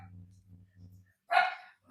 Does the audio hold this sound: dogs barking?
yes